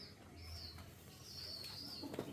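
A restless pigeon flutters its wings and gives soft, low coos, heard faintly and fairly close in a quiet space.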